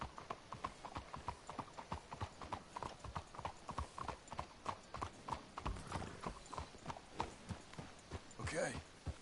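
Steady clip-clop of horse hooves walking on a hard surface in the video game Red Dead Redemption 2, with voices talking over the rhythmic hoofbeats.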